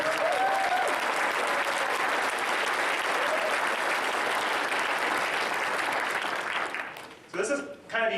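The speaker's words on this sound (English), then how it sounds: "So please give them a round of applause." A crowd at a hackathon opening ceremony claps in sustained, loud applause that holds steady for several seconds before tapering off, with a voice speaking briefly at the end.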